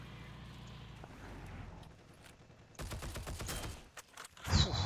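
Gunfire in a sniper video game: a loose burst of sharp shots in the second half, ending in one louder crack, after quieter game ambience.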